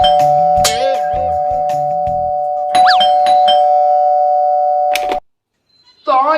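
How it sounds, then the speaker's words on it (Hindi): A loud electronic doorbell plays a melodic chime tune with a sustained tone, cutting off briefly before a second burst of ringing. "दरवाजे की घंटी बज रही है, फोन की नहीं।"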